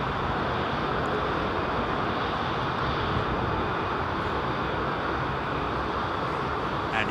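Aircraft at London Heathrow Airport, a loud, steady broadband roar of jet engines filling the whole stretch without pause, like a heavy airliner passing or taxiing nearby.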